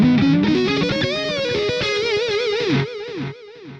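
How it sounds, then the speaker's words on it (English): Electric guitar played direct into an audio interface through a free digital delay plugin after a noise suppressor gate, distorted sustained notes with repeating echoes trailing off as phrases end, loud and close, no talking. "Now we need a delay or something. We'll go with the free digital delay."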